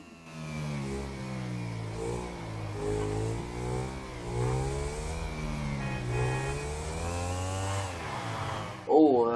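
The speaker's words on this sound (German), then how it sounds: "Oh, das ist ein Motorrad." A motorcycle engine in GTA 5 Online revs and drones with rising and falling pitch, a steady buzzing whine throughout, ending in a sudden louder thump.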